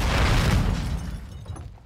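A Semtex grenade detonates in Call of Duty: Modern Warfare 2 multiplayer, a single loud, close boom that rumbles and fades away over about two seconds.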